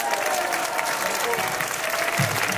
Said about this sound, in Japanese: この辺で全力疾走してくれたこの辺のためにみんなで拍手